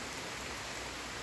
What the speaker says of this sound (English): it's like piss pouring raining, you can see.